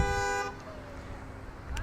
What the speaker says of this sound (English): Please be patient and don't honk your horns at each other.